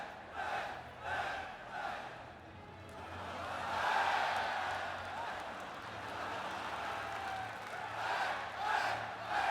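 Arena crowd at a Dream Lightweight Grand Prix 2008 MMA event cheering and chanting in rising, rhythmic swells, loud and continuous, with a roar building near the middle and voices mixed into the din.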